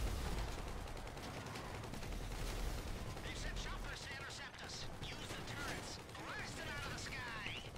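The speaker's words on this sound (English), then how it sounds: "Oh, and it's a grenade launcher." Grenade launcher fire during a GTA Online Doomsday heist, heard as a dense, continuous barrage of loud, overlapping blasts and rattling gunfire that never lets up across the whole stretch, with brighter crackling bursts toward the end.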